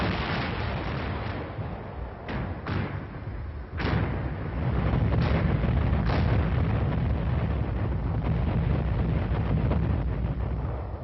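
Army artillery pieces fire in a rolling sequence of heavy booms and blasts, several sharp reports standing out over a dense, rumbling wash of distant gunfire and wind noise.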